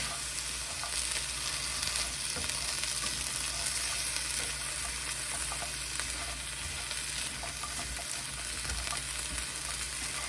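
Garlic sautés in a pan with vegetables, giving a constant close crackling sizzle with occasional scraping stirs, steady and fairly loud throughout with no talking.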